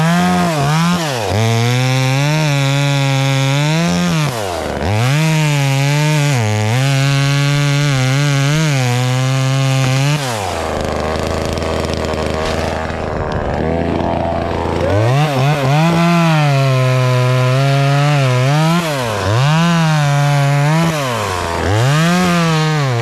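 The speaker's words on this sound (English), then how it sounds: "All right, chainsaw. Let's chainsaw." Chainsaw cutting wood, a loud close two-stroke engine snarling at high revs through repeated cuts, dipping and bogging as the chain bites, idling low for a few seconds midway, then revving back up for more cutting.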